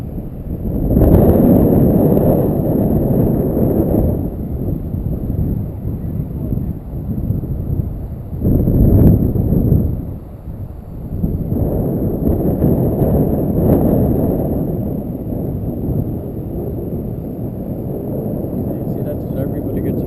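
Strong wind at a model airplane flying field on a windy day, a loud, continuous low rumble of gusts buffeting the microphone, rising and falling, with people talking under it.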